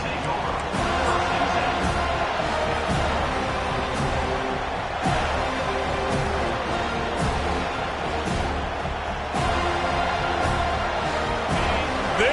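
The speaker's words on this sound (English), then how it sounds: "This crowd, full throat, splitting the eardrums" A stadium crowd roars at a football game, a dense, sustained wash of noise that stays loud and steady throughout, with no talk over it.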